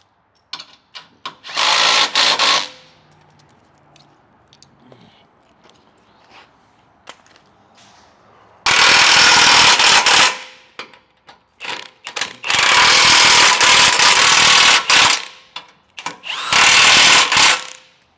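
An impact-style power tool snugs down rear bumper bolts on a Lexus GX, firing in several loud, sustained bursts separated by quiet gaps with small clicks and handling noises.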